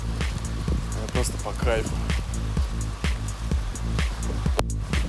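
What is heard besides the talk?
heavy rain at night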